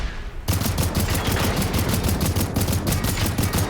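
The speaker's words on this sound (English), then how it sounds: "the other one's shooting rockets at me, which is fine" Rapid volley of rocket fire from a hostile robot in Generation Zero, a sustained loud, dense burst of repeated launches and blasts starting after a brief quiet moment and continuing without pause.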